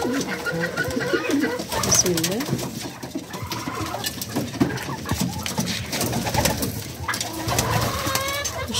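Pigeons coo steadily from a rooftop coop, their soft throaty calls rolling on close and loud throughout while a person speaks briefly over them.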